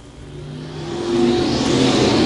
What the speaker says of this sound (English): Green flag is out and the race is on.